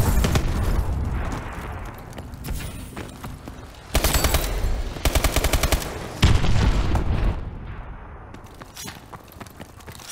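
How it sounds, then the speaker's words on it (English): Gunfire and explosions sound in a first-person shooter game with friendly missile strikes called in, heavy rattling bursts and booming impacts, loud and close, with abrupt volleys alternating with quieter rumbling stretches. "Friendly missile strikes inbound."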